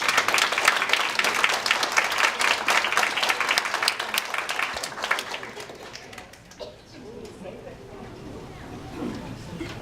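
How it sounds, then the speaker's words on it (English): Audience applause welcoming two guests introduced on stage, a dense burst of many hands clapping loudly for several seconds, then fading into quieter room noise with a few scattered claps. "Let's give them a round of applause."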